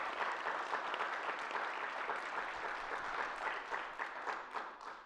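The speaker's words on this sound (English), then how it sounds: "This is an applause of ours for all of them what they've done here." Sustained applause from a sizable audience at a global forum on direct democracy, dense steady clapping that holds throughout and tapers slightly toward the end.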